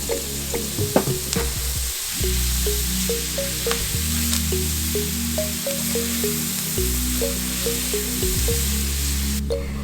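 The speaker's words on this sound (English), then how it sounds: "Now go ahead and saute this for roughly 3 to 4 minutes or till the onion and kimchi starts to soften." Kimchi, bacon and onion sauté in a hot pan with a steady, close sizzle and frying crackle throughout, broken by repeated short tapping and stirring clicks and a low humming background.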